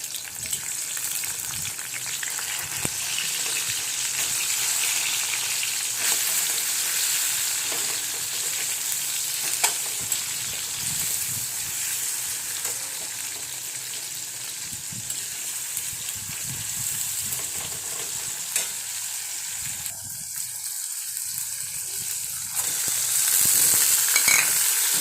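Hot oil spits and crackles continuously in a frying pan, a dense close sizzle with scattered sharp pops that runs on steadily, briefly dipping before swelling again near the end.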